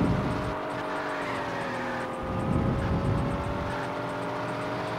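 The Knight Rider car's engine from the PS2 game Knight Rider: The Game drones steadily at high revs, a continuous tonal whine that swells slightly as it accelerates, loud and close with no pauses.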